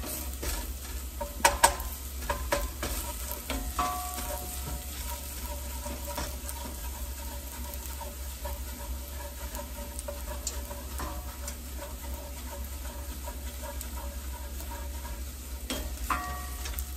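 Garlic sizzles and browns in a pan as it is stirred, a soft continuous frying hiss with occasional light clicks of the utensil against the pan, no talking.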